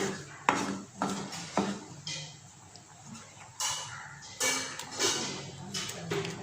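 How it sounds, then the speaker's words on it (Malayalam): A spoon stirring coconut masala in a pan for a prawn dish, producing several irregular scraping and knocking strokes against the pan over a quiet background. "നല്ലപോലെ വറ്റി വരുന്നത് വരെ അങ്ങനെ കുറച്ച് ഇളക്കി കൊടുക്കാം."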